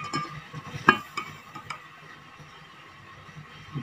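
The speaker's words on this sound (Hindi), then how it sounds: "डाल रहा हूँ भाई ये चीनी" Sugar being stirred into a Tang drink with a spoon: light scraping and a few sharp clinks of utensil against the container, close and fairly quiet, fading to a soft rustle.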